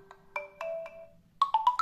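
A ringtone plays on a Tecno Pop 8 phone: a short run of clean electronic beeping notes that pauses briefly and then resumes with a quicker, brighter four-note phrase, close and clear with no talking.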